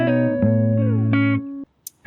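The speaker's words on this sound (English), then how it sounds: "The guitar sounded like this straight out of the recording." An unprocessed electric guitar plays a short melodic phrase of a few sustained, clean notes, close and clear, then stops abruptly into near silence with a brief noise at the end.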